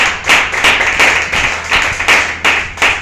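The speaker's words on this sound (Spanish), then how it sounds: "Denle un fuerte aplauso al Señor" A church congregation claps in a steady, rhythmic beat, many hands striking together in quick repeated bursts, loud and close throughout.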